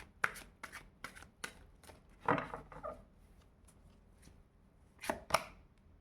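Tarot cards are shuffled by hand in quick, crisp riffling bursts, close and fairly quiet, with brief pauses between flurries.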